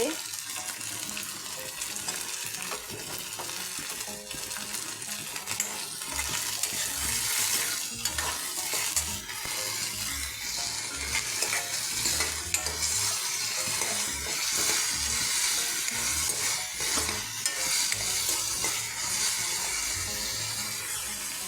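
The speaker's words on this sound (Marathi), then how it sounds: "ह्याचे व्यवस्थित फ्राय करून घ्यायचे" Fenugreek bhaji sizzling in a pan while a spoon stirs it, continuous frying hiss with scraping movements, close and fairly loud throughout.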